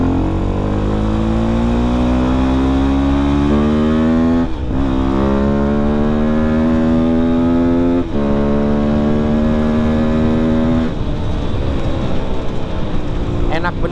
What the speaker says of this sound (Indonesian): Enak bener sih tarikannya di motor.